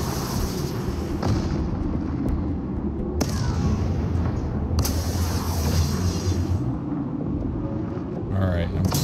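Rocket launchers in TerraTech Worlds set off a series of sharp blasts over a constant rumbling mechanical drone, with several distinct explosive cracks spaced across it.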